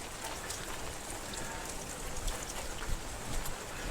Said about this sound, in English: It seems a little more than a light rain.